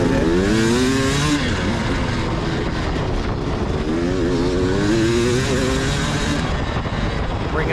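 Dirt bikes racing in a hare scramble at 10 Pines Ranch, a loud, continuous engine drone with revs that rise and fall as riders push through the course, several bikes close by with no clear talk.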